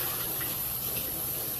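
Water splashes and pours into a pan during cooking, a short steady gush at moderate volume with no voices.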